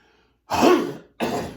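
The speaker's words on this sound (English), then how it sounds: "Excuse me for clearing my throat" A single throat clearing, a rough guttural burst followed by a shorter second rasp, close and fairly loud against silence.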